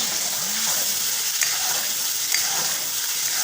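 Mutton karahi fries in a pan over a full flame, a constant dense sizzle with occasional stirring scrapes and faint clinks throughout.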